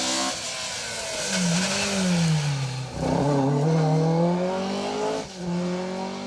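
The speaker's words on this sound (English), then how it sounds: "car 82, is indeed Jeff Glover and Keith Barker in that lovely little rear-wheel drive Mark III Vauxhall Astra" A rear-wheel drive Mark III Vauxhall Astra rally car on an asphalt stage of Rally Ceredigion 2023, its engine revving hard through rising and falling gear changes with brief lifts between, loud and close.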